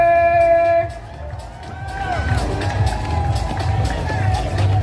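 At the finish line of the 2024 RBC Brooklyn Half Marathon, a crowd cheers and whoops for the men's winner, a continuous outdoor roar that swells after an amplified announcer's voice.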